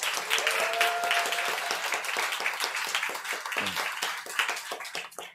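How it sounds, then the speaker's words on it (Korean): A church congregation at a Sunday worship service claps to welcome back a returning member, a dense and steady round of applause that stays full before thinning toward the end, with a brief tone and faint voice at the start. "우리 크게 박수로 환영하겠습니다."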